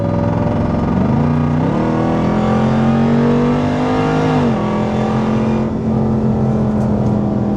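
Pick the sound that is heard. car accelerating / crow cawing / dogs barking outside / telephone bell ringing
car accelerating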